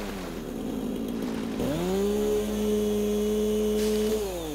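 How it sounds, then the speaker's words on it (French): Chainsaw running in the video game Satisfactory, a steady droning engine tone that starts up rough, then holds an even, muffled whine for several seconds without speech. "La tronçonneuse a maintenant un bruit sourd."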